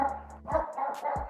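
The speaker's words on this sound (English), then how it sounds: "I remember that bark anywhere." A dog barking indoors: two short, fairly close woofs about a second apart, with a faint whimpering tone, and no talk over them.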